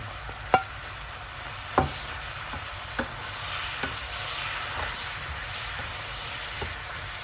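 Cabbage sautéing with pork and pork liver for pansit guisado gives a steady sizzling hiss in the pan, punctuated by several sharp clacks of a utensil against the pan as the mixture is stirred.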